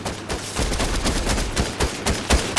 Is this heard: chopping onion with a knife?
no